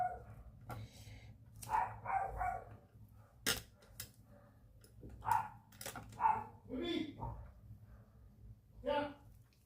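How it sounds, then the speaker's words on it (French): A dog seen from a balcony barks in short yips and bow-wows, repeated several times at moderate distance. A person talks quietly between the barks. "elle a dû voir un autre chien, hein. C'est pour ça qu'elle aboie."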